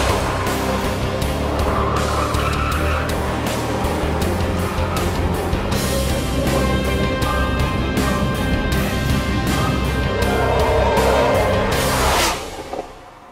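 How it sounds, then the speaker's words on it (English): A Porsche 911 GT2 RS sports car drives hard, its engine a loud, continuous roar with rapid rev changes and pulsing gear shifts, close up throughout before cutting off abruptly at the end. "This is the Porsche 911 GT2 RS. The most powerful 911 ever created."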